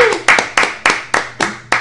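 About seven evenly spaced hand claps ring out close by in a small studio, a steady rhythmic clapping rather than a full crowd.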